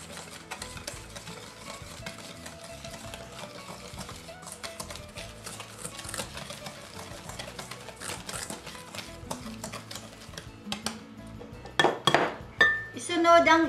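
Melted butter and sugar are mixed in a deep bowl, a spoon clinking and scraping against the sides in quick irregular strokes, close and clear, with louder knocks near the end.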